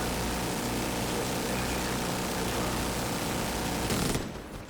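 Dense sustained automatic gunfire from The Division 2 in a shooter game, a loud continuous roaring barrage that holds steady and then cuts off abruptly near the end, with speech mixed in.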